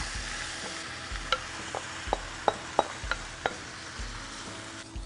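Shrimp frying with fermented soybeans in a pan over lowered heat, a soft steady sizzle broken by about a dozen sharp clicks and scrapes of stirring, fairly quiet, no talk.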